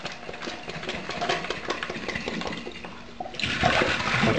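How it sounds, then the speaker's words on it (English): Water sloshes and pours out of a hookah base during a final rinse, a steady rushing drain that swells louder toward the end, with no voices. "Let the water drain out."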